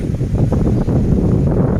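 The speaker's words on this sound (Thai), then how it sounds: "เสียงลมไหม" Wind rushes steadily past the microphone at a spot where a young elephant plays in water and mud, a loud, continuous low roar with gusty fluctuations.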